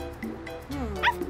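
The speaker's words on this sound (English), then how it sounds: "It's a puppy." A cartoon puppy from the animated Tayo the Little Bus series gives a few short, high yips and small barks, close and fairly clear.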